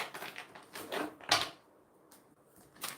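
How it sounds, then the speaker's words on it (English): An oracle card deck is shuffled up close: quiet, papery riffles and soft slaps in short irregular bursts, with one sharper snap of cards midway and brief pauses between. "let me just shuffle this oracle deck"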